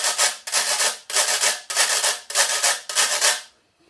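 A wire whisk is scraped rhythmically along a kitchen grater as percussion, six loud raspy strokes in a steady pulse, close and alone, ending in quiet.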